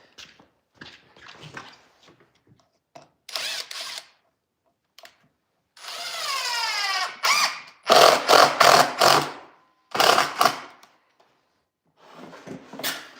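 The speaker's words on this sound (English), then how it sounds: "We'll re-drill these." A power drill whirs in several short bursts while re-drilling holes in a wooden cutting board, separated by pauses and clattering handling noises, one longer spin rising in pitch.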